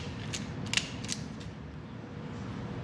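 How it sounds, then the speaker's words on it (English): A hand riv nut tool is worked up close, giving a few short metallic creaks and ratcheting clicks in the first second, then fading to a quiet mechanical hum. "So that's my riv nut tool."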